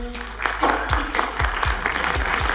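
Applause from an audience greets a guest at a film inauguration ceremony at the Rawalpindi Arts Council, a steady crowd of clapping with low background murmur and a few louder thumps.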